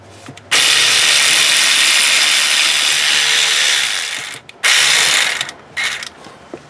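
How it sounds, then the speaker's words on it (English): A power ratchet buzzes loudly and steadily while loosening bolts on a 1997 Honda Civic during engine work, first in one long run of about four seconds, then in shorter bursts after a brief pause. "Let me grab my power ratchet."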